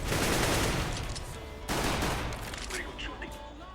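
Continuous AK-47 automatic fire in a CS:GO deathmatch, loud dense bursts with a fresh volley midway, close and filling the whole moment.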